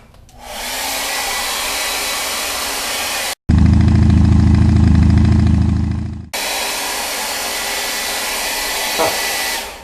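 A dryer blows loudly and continuously to dry watercolor paint on artwork. The steady roar shifts in tone partway through and then returns to its earlier sound.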